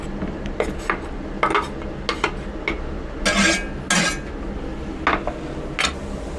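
Red onion and minced garlic stirred in a pan with a little olive oil: a steady low sizzle under scattered clinks and scrapes of a utensil against the pan, with no talking.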